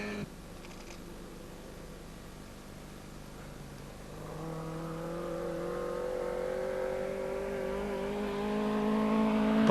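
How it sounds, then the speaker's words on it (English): A rally car engine during the 1985 Iceland rally, a Toyota Corolla among the competitors, rises from a low distant drone into a steadily climbing rev as it builds speed, with no voices over it. "Thorstein Ingersson is holding on to his 4th position with some aggressive driving."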